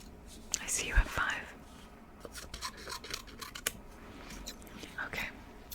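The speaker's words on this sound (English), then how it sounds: "Oh yes, these are lovely scissors." Close, crisp snips of scissors cut a few times between soft whispered speech, with light rustling and scraping around them.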